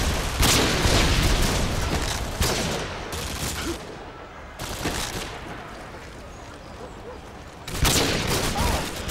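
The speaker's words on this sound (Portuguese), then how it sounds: "Passando uma granada de luz" Heavy gunfire and booming blasts from a Modern Warfare 2 match on PS3 crash in loud bursts, with a flashbang grenade detonating amid dense rattling shots and brief lulls, while a voice speaks faintly underneath.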